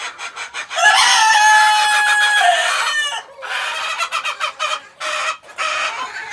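Several Fayoumi hens cluck and squawk loudly nearby on a farm in Taraganj, Rangpur, in uneven bursts, one drawn-out call rising above the rest, with no voices.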